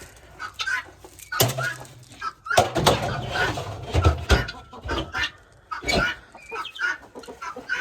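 Chickens cluck and squawk nearby in an irregular, busy chatter, with a few louder bursts and some clattering.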